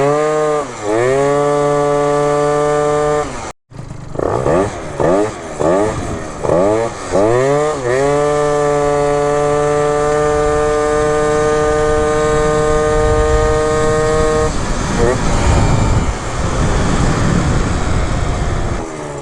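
A 70cc Zuma scooter engine runs close by, with a loud buzzing two-stroke tone that blips up and down through several quick revs, then holds a steady high rev before settling back.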